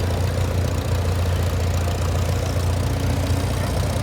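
Antique tractor engine idling in a steam and gas show parade, a steady close, low rumble with a mid-range chug that runs unbroken with no voices.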